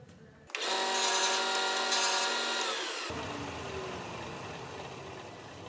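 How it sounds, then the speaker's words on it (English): Power sander grinding the edges of wooden picture frame pieces, a loud steady whine that starts abruptly, holds for a few seconds, then cuts off and leaves a fading hum. "So I'm going to sand 2 edges first."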